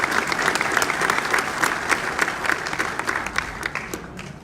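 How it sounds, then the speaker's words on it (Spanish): Steady applause from a crowd welcoming a speaker at an education forum, dense overlapping claps sustained throughout at an even level before tapering slightly at the end. "Vamos a recibirla con un caluroso aplauso."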